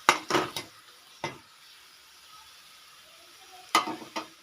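Vegetable masala with garlic and turmeric powder frying in a pan, a low steady sizzle broken by a few sharp spoon scrapes and clinks against the pan, close and with no one talking.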